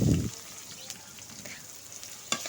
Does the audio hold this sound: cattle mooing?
no